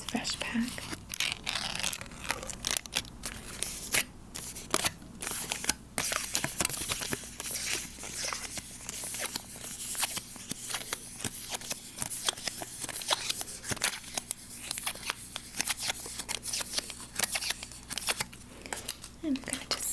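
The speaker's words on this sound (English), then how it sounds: "So for those of you who love foil, it's fresh, nice fresh pack." Crisp crinkling and crackling of a fresh foil pack holding ritual incense matches, handled up close in a steady, continuous rustle across the whole stretch, with soft breathy handling noises mixed in.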